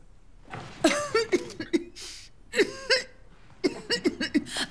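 A person coughs in several harsh, wheezy bursts, close by, with short gasping breaths between the fits.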